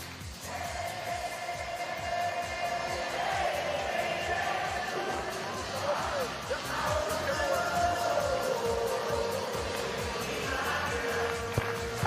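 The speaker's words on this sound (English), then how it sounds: "Keep clapping out." A large stadium crowd at a Savannah Bananas baseball game in historic Grayson Stadium claps in a steady rhythm, loud and continuous, with cheering and voices mixed in throughout.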